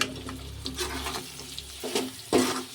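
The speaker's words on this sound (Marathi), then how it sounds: "आणि याला आपण छान हलवून घेऊ." A spoon clinks and scrapes as crushed potatoes are stirred into a chilli chutney in a pan, with a soft sizzle underneath and a few distinct knocks, ending on a louder scrape.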